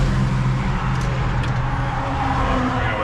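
A southern truck engine idling right after its first start-up, a steady dense rumble that holds at an even level throughout, close by, with no speech over it.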